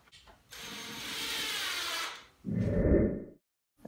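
A power drill drives 1.5-inch crate screws into a wooden frame for a floating shelf, with one sustained whir and a shorter, lower burst after it. The sound is close and has no talk over it.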